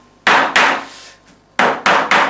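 Five loud, sharp hammer blows drive staples into the wooden frame of a stretched canvas print, struck in two bursts of two and three with a short pause between, close and clear with no talk.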